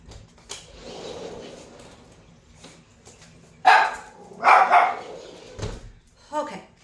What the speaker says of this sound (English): my little small doggy is barking in the background